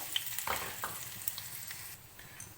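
Cut dried red chilies dropped into chana dal frying in oil for tamarind rice, a soft, close sizzle with a few light scraping stir sounds, fairly quiet and with no talking.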